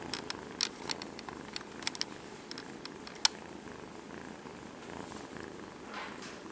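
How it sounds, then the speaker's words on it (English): A soft, continuous purr from a cat close up, rhythmic and low, with a few sharp clicks and rustles scattered over it. "Can you hear him purring?"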